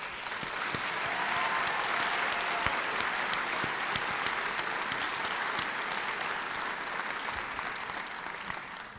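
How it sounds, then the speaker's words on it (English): A commencement ceremony audience gives a round of applause for the special guests, a steady, dense wash of clapping from a large crowd that holds at an even level throughout, with no talking over it. "Please join me in a round of applause for your special guests."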